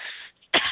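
One short, sharp cough close to the microphone, preceded by a softer breathy throat noise and a brief pause.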